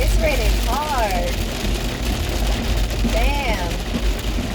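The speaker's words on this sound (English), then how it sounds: "It's raining hard." Heavy rain pounding on a car on a windy day, a dense steady wash of noise filling the cabin alongside a low engine rumble, with a voice talking over it in brief bursts.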